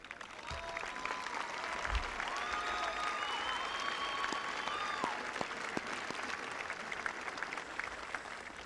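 A large audience at a high school graduation ceremony applauds steadily, a distant, sustained wash of clapping throughout with some faint tonal sounds above it.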